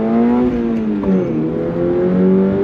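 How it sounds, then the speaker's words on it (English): A 2025 Subaru BRZ tS accelerates hard in first gear, its engine note rising steadily in pitch under throttle, loud and close, with a brief dip before climbing again. "Let's start in first gear. On throttle, here we go."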